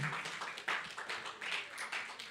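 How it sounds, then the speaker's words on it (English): Audience members at a church gathering clap for a man, a steady wash of hand claps with uneven, rippling rhythm, moderately close and without talking over it. "Please help me to clap for that man."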